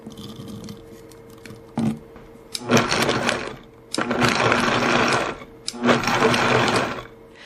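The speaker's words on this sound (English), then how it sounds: "just drop in a few ingredients at the end of the recipe and pulse a few times" A Vitamix blender pulses ingredients in three short bursts, each a loud, close whirring roar lasting about a second or so, separated by brief pauses with small clicks and quiet.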